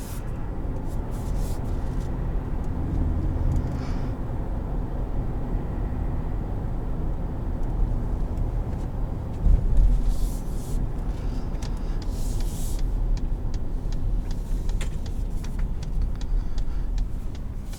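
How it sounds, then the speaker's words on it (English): A 2020 Ford F-150 Lariat with the 5.0 V8 drives at night, heard from inside the cab as a steady low engine drone and road rumble with faint ticking clicks on top. "there's something perfect about the V8 sound coming out of a truck"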